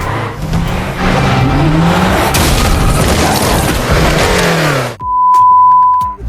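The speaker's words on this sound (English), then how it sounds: "So he shifted gears, started the car, and drove straight at her." In a dramatic film scene, a car engine roars loud and close as it revs and accelerates with tire noise and a heavy impact, then cuts off abruptly into a quiet tone.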